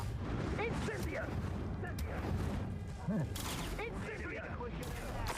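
An Incendio fire spell is cast during a duel in the Hogwarts Legacy video game, a busy mix of whooshing magical blasts and booming impacts, moderately loud, with voices calling out during the fight.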